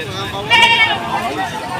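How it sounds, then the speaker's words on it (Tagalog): Goats bleating at a livestock market, one clear nearby bleat rising over a steady crowd hubbub and background chatter of people talking. "Maraming available na kambing dito."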